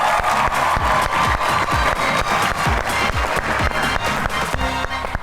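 A studio audience bursts into loud, steady applause and cheering as two guests arrive on a talk show stage, dense rapid clapping continuing throughout with crowd voices mixed in.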